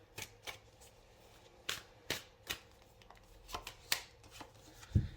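Tarot cards being shuffled and laid down, a series of quiet, sharp riffles and slaps spaced irregularly, close and alone without talk.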